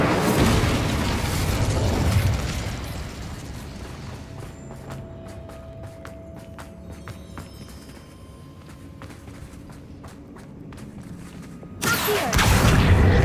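Incendio, a fire spell cast in the video game Hogwarts Legacy, makes a loud, rumbling fiery burst at the start. A quieter stretch of ambience and footsteps follows, then a second heavy blast at the end.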